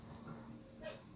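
A small indoor dog lets out a brief, faint whimpering yip near the end, set against a low, steady room hum.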